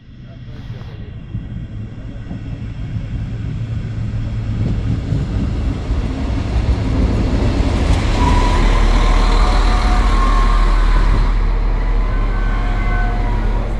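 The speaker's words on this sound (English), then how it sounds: "here we can see its arrival" A Deutsche Bahn LINT 41 diesel regional train on the Hesselberg Railway rumbles in and grows steadily louder as it pulls into the station, with a low engine drone and squealing brakes near the end.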